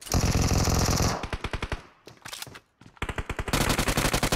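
Rapid automatic gunfire in the mobile shooter PUBG Mobile: dense loud bursts of shots at close range, broken by brief gaps and a short near-silence, then resuming heavily.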